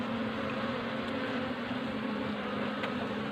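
Honeybees buzz in a steady, dense drone around the hive frames of a colony built up from a donor colony, a continuous close hum with no talking.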